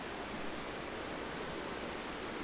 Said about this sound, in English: Very loud water for how far away it is.